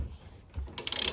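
A wrench ratchets on the drive pulley nut of a 1972 Bolens 1054 tube frame tractor, a brief low clunk followed by a quick run of bright metallic clicks, close and alone.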